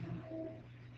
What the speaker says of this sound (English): This is the birds.